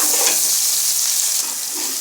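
Masala and pickle spice fry in oil in a pan for a dhaba-style egg dal tarka, a steady loud sizzle with faint scraping of stirring throughout.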